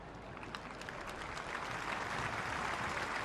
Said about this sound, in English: And so applause for Rowan Milnes, whose afternoon ends prematurely